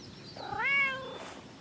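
A single close cat meow, rising then falling, clear and fairly soft over quiet background on a farm.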